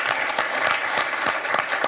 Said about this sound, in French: Un point pour Thérèse, qu'on peut applaudir.